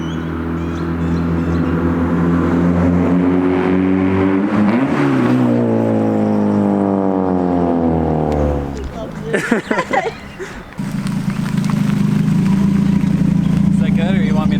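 A Mazda Miata NA with a custom exhaust revs hard, its engine note climbing and falling in sweeping rises, then dropping briefly before settling into a loud steady drone, close by with people talking.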